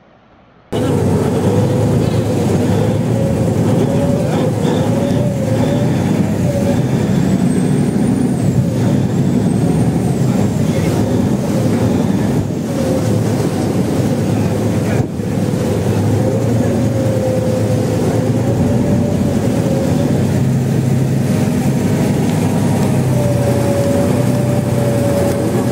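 Engine of a river boat on a Bangkok river cruise, a loud, steady droning rumble with a wavering whine that runs throughout, heard from on board with no break.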